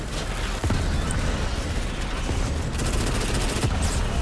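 Dense, continuous battle gunfire in the sci-fi shooter Starship Troopers: Extermination, a loud wash of overlapping shots with a few sharper cracks standing out.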